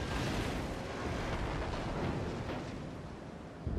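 Heavy naval guns of a battleship in the World of Warships game roar as a dense, rumbling broadside, a loud sustained boom that fills the moment, with no voices over it.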